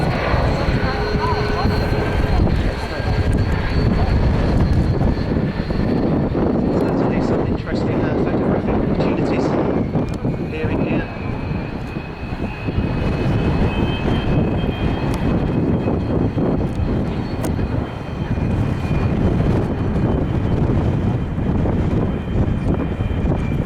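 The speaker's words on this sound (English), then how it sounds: "now we can see the Chinook getting airborne. It's taxiing out" A twin-rotor RAF Chinook helicopter of 27 Squadron lifts off and taxis out at the RAF Leuchars airshow, its loud steady rotor and turbine roar filling the whole span while a commentator talks over a public address.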